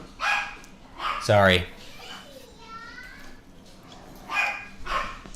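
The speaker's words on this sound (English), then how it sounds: "dogs are going crazy." Dogs barking and yipping in a few short bursts around a room, mixed with a voice and other people talking.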